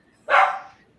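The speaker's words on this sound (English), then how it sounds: "I'm so sorry about the dog" A single sharp dog bark sounds close and loud, then trails off quickly into quiet room tone.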